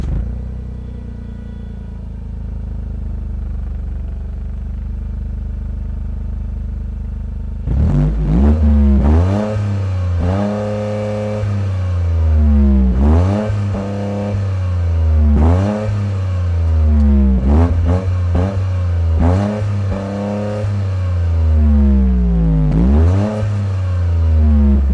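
A 2024 Toyota GR Corolla accelerates hard on the road after a low idling hum, its engine rising in repeated loud revving sweeps through the gears, each climb broken by a brief dip at the shift.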